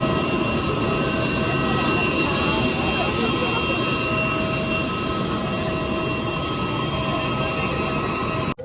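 A jet airliner's engines drone loudly and steadily while passengers board, a dense continuous roar with a high whine on top, cutting off abruptly at the very end.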